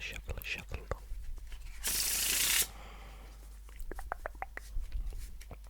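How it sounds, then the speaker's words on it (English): A quick burst of cards being riffled together, a dense papery rush lasting under a second amid soft handling noises and quiet clicks. "Let's give this deck a nice shuffle."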